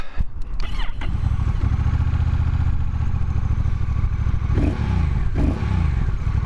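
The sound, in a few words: motorcycle engine idling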